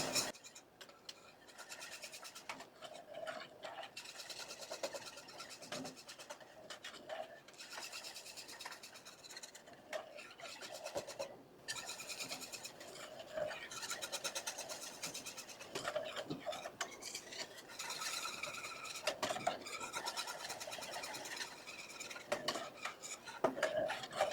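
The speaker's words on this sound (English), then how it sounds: "We're constantly using the whisk." A whisk scrapes steadily around the bottom of a pot of chocolate pudding milk as it heats, making a quiet, rhythmic rubbing and scratching that runs without break.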